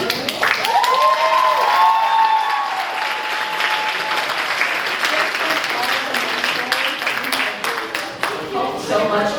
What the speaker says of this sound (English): Another round of applause for our amazing director.